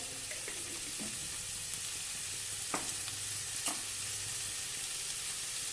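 Steady low sizzle of ginger-garlic paste frying in a pan, with a few soft clicks and scrapes of stirring, no voices.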